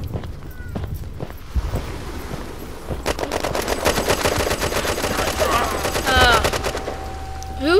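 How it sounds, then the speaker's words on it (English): Rapid machine-gun bursts from the online shooter Red Crucible Firestorm, a steady rattling stream that grows dense and loud over the back half, with voices chatting over the gunfire. "Did you hear that gun?"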